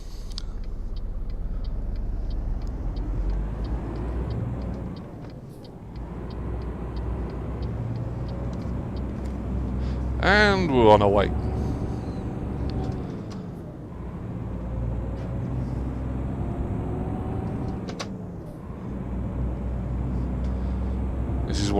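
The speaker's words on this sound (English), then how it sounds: "This is one of the older styles of Scania trucks in Euro Truck Simulator." An older-style Scania truck in Euro Truck Simulator 2 drones along with a steady low engine rumble that holds for the whole stretch, interrupted by a brief hiss and tonal whine. Someone speaks briefly over it.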